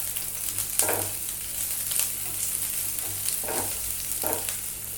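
Small chopped onion sautéing in a little oil in a pan for a cabbage egg omelette, a steady close sizzle broken by four soft scraping stirs at uneven intervals.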